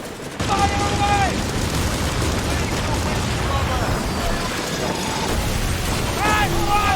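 Ship cannons roar in a pirate naval battle in Skull and Bones, a dense, loud barrage of booming blasts with whistling tones riding over the din and brief shouted voices.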